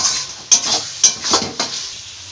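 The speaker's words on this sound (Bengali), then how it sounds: "টমেটোটা থেকেও কাঁচা গন্ধটা যতক্ষণ না যাবে ততক্ষণ ভালোভাবে তেলে নাড়তে হবে" A spoon stirs chopped tomato and spices frying in hot oil in a pan for a chicken and potato curry, giving a steady sizzle broken by four rhythmic scraping strokes, close and fairly loud.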